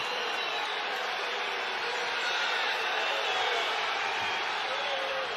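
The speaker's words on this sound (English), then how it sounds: "Crowd trying to get involved here with the mat push out call." A packed arena crowd at a Big Ten college wrestling dual meet between Iowa and Penn State reacts to a mat push-out call, making a dense, steady roar that holds at a loud level throughout.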